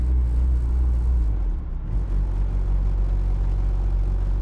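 Turbocharged, high-compression built 1.6L car engine pulling under load while driving in fifth gear at low speed, a steady loud low rumble and drone with a brief dip partway through, no talk.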